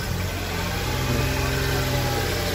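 A 2008 Toyota Camry with a 2-litre petrol engine idles at a car market in Khujand, giving a steady close engine drone with even low-pitched pulsing and no speech.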